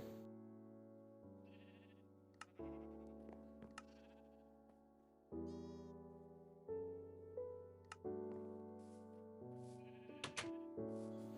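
Repeated Minecraft sheep bleats with a synthetic, game-like tone, sounding one after another at uneven intervals, some overlapping, clear and close.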